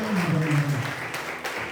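Congregation at a French-language church service applauding, a steady dense patter of clapping with voices singing or speaking over the first half.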